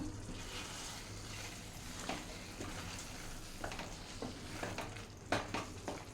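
Grated and cut paneer being stirred into methi gravy in a pan, soft scraping spoon strokes over a faint low sizzle, quiet and intermittent with no talk.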